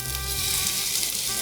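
Onions sizzling in sunflower oil in a wok, a loud dense continuous hiss of frying close up, steady throughout with no talking.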